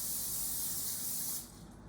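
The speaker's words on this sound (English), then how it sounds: "grab your non-stick cooking spray, shake it up a little bit, spray the inside of your pan" A can of non-stick cooking spray hisses into a pan in one steady spray for over a second, then cuts off, leaving quiet room tone.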